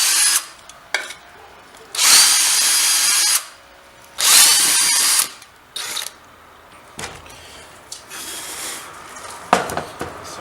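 A power drill bores a small part for a Stirling test tube engine in several bursts, loud and close, separated by short pauses and some handling noise.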